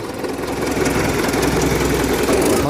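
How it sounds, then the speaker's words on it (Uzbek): A tractor's diesel engine idles steadily with a turbocharger, running smoothly and evenly at a close, fairly loud level, with no talk over it. "Motorlari ham juda ham tekis ishlayapti. Turbo kompressorlari shunaqa ishlayapti, odamga yoqadigan holatda."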